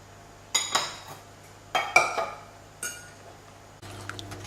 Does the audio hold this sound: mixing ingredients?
yes